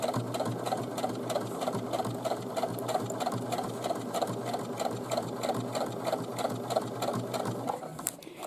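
A sewing machine topstitches straps onto a boomerang bag, a close, steady rapid needle clatter running continuously before stopping abruptly near the end.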